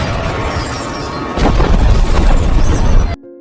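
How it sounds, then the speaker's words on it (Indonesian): A car blowing up after being shot in an action film scene: a sustained noisy roar that swells into a loud, dense boom and crashing blast around halfway, holding for over a second before cutting off abruptly. "Salah satu penduduk kemudian menembak mobil tersebut hingga meledak."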